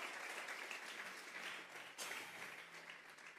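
A church congregation gives a round of applause during a Spanish-language service, a soft, steady patter of many hands, fairly distant and faint, with no speech over it.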